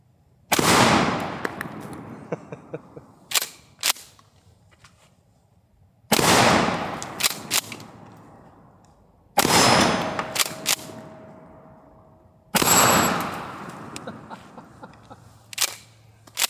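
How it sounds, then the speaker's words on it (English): Four loud, booming blasts from a Mossberg 590 Shockwave 12 gauge shotgun fired outdoors at small targets, each shot followed by a long decaying echo and some faint clicks from working the action. "we're gonna see how tight the spread pattern is because these are some pretty small targets to hit with the shotgun"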